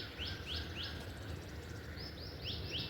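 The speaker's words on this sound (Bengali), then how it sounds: "এটা আওয়াজ দেখেছো, ওই পাখিগুলো দেখো বসে আছে ওখানে" Small birds perched among garden vegetable plants give short, bright chirps in two quick clusters, fairly faint against a steady outdoor hiss.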